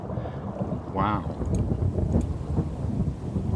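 A rolling crash of thunder from a video game storm with rainy weather sounds over steady rain and wind, while someone talks through the rumble.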